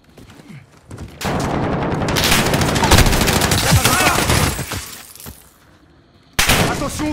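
Sustained automatic gunfire in Call of Duty: Modern Warfare, including a suppressed Mk18 Mod 0 rifle with hybrid scope, forms a dense, loud wall of shots and battle noise for several seconds, dropping off and then resuming abruptly at the end.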